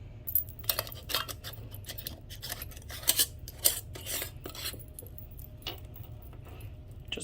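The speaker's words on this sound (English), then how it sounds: "I'm going to go ahead and wipe this rim off and get a lid on." A metal lid is screwed finger-tight onto a glass jar of homemade pumpkin butter, making quiet, scattered clinks and scrapes against low background hum.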